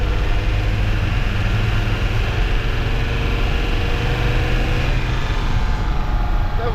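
An LT-35 van pulls a repaired trailer away in fourth gear under load, its engine a loud, continuous drone with road rumble. There is no talk.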